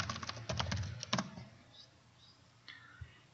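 Clicks from a computer keyboard, a quick run of keystrokes and then a firmer Enter press, close and crisp, followed by a few scattered faint taps.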